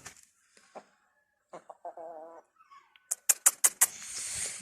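An Indian game rooster gives a short, harmonic call partway through, set among scattered clucks and ending in a burst of sharp, loud calls nearby.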